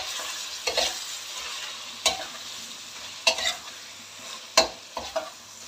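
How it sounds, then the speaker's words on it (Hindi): Mutton liver frying on a tawa as tomatoes and spices are stirred in, a steady close sizzle broken by a few sharp scraping stirs, with no voices. "अब इसमें ऐड कर रही हूँ मैं टमाटर, तो अच्छे तरीके से मिक्स कर लेंगे टमाटरों को"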